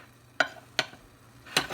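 Pieces of mandarin, kiwi and fresh ginger dropped into a bowl, heard as three short, distinct thuds spaced out over a couple of seconds against a quiet background.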